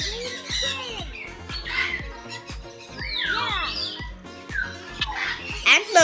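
Sun conure parrots at a bird park give loud, shrill squawks and chirps in quick bursts, close by, with a voice heard among the calls.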